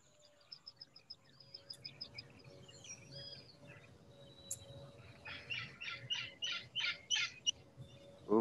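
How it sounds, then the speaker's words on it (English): A rusty-margined flycatcher near the Panama Canal gives repeated sharp, chattering calls in a rhythmic series, moderately close over steady insect hum and faint background chirps. "Here's a rusty margin flycatcher on my screen."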